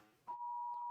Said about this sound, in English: Oh yeah, Amber Alert.